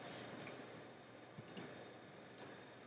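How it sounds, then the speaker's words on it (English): A few sharp mouse clicks from a computer mouse, a quick pair followed by a single click a moment later, close and fairly quiet over a faint background hiss. "Right click it"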